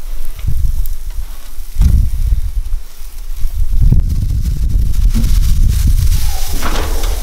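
Fish fillets fry in a pan with a loud, close crackling sizzle, broken by low rumbling bumps and shuffling handling noises, with no talking.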